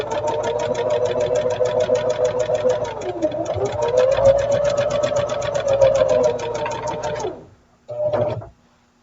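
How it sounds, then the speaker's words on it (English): A home sewing machine runs steadily, stitching a quilt seam along the edge of a newly added purple piece, a fast even motor whir with rapid needle ticking that holds for about seven seconds, stops, then gives one brief final burst. "I'm going to sew right down the edge here, even with the new piece that I just added."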